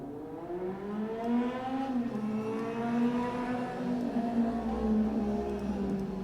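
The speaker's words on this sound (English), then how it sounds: "Those cars are probably too loud." Engines whine and rise in pitch as vehicles accelerate past, a steady hum of traffic heard from indoors at moderate distance.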